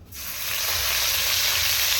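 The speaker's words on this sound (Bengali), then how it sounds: "ভালো করে ভেজে নিচ্ছি তেজপাতা আর পাঁচ ফোড়নটা ভাজা হয়ে গেছে" Bay leaf and five-spice seeds fry in hot oil, a steady, close sizzle that swells after a brief quiet start and holds evenly, with no talking.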